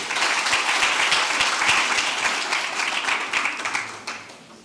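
An audience at a teaching and learning conference applauds a professor after his address with loud, dense clapping that holds steady for several seconds before thinning out.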